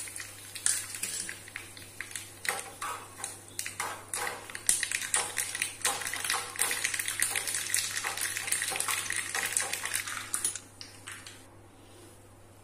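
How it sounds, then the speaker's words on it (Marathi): Mustard seeds, curry leaves and asafoetida crackle and sizzle in hot oil, a dense run of sharp pops and spits up close that builds and then tapers off near the end. "तर आता मोहरी तरतरली तर आता त्याच्यामध्ये मी कढीपत्ता टाकते"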